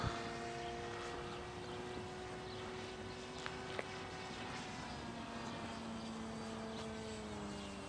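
A modified drone lifts off with a steady, loud, close propeller whine and motor hum that holds an even pitch throughout, with no talking.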